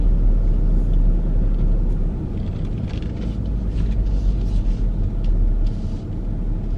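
A car drives slowly through a parking lot beside a store with a steady, loud low rumble from inside the cabin, and fainter rustling and road noise rise and fall over it.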